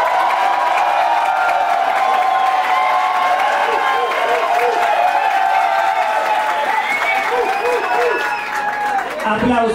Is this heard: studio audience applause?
yes